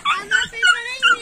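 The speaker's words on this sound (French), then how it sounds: "Ça gueule tout le temps ces chiens." Dogs yelp in four quick, high-pitched whining bursts, close and loud, with nobody talking.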